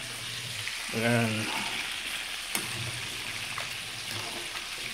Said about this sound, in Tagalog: Kumukulo na yung shellfish tahong.